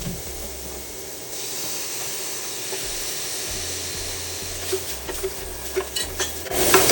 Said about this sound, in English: I'm gonna go ahead and cook these onions and garlic just a little bit.